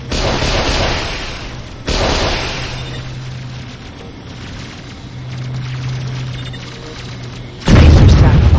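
A laser satellite strike in Warzone 2100 lands as a huge, loud explosive boom followed by a long rumbling roar, with another sharp blast erupting near the end.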